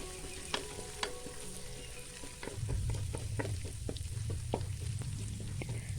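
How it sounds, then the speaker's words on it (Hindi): Garlic ginger paste fries in about half a cup of oil in a kadhai, with a steady close sizzle that grows louder and denser midway, with scattered clicks and stirring taps on top. "उसमें लहसुन अदरक का पेस्ट 1 चम्मच डाल दिया है। उसको हम थोड़ा सा गोल्डन फ्राई करेंगे।"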